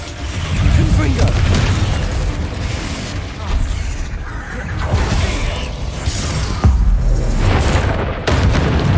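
A Confringo spell explosion in Hogwarts Legacy: loud, boomy blasts with rumbling low end and whooshes, repeating over a continuous dense game soundscape.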